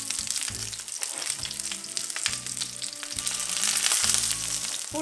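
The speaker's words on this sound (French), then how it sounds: "Et je vais laisser réduire mon fond." Pan juices reducing in a hot pan after leeks and fennel are lifted out, a steady close sizzle and bubbling frying sound that carries on without a break.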